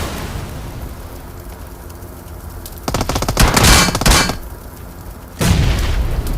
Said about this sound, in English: He misses the nade horribly, and then gets naded himself.